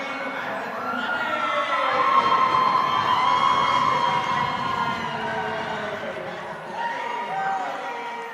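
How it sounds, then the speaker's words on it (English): A crowd roars and cheers loudly at a girls' high school hockey game in a rink, a sustained swelling wall of voices that peaks and slowly eases, with a whistle-like tone riding through it. "Could not hear who the assists were as there was too much cheering"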